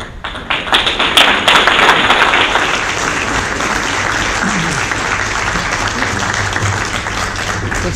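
Audience at a city commissioner debate applauds loudly and continuously, a dense wash of many hands clapping that holds steady throughout, with some voices faintly underneath.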